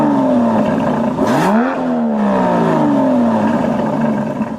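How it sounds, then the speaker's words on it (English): An Aston Martin DB11 exhaust in Grand Touring mode drones loudly and steadily, with a quick rev that rises and falls before the engine settles back into a smooth cruising tone. "the most noticeable of which is to the exhaust note. Take a listen in Grand Touring mode."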